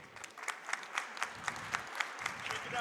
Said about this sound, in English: gets an applaud from the crowd